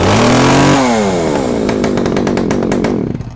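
A chain-brake-equipped gasoline chainsaw runs loud and close, its high rev dropping and settling into a crisp, rattling idle for a few seconds without speech.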